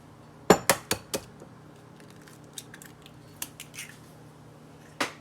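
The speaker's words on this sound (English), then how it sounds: "I can get it mixed up pretty good with a spoon." A spoon stirs meatloaf mixture in a bowl, a few sharp clinks against the side at the start, then soft scraping and light taps, ending with another clink; close and fairly quiet, no voices.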